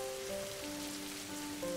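Steady patter of hands patting on legs mimicking rainfall, a dense soft crackle close up with some sustained tonal background, no voices.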